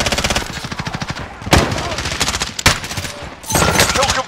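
Rapid automatic gunfire from a video game, dense bursts of machine-gun shots with brief pauses and a couple of sharp single blasts, loud and close throughout, with faint game voices mixed in.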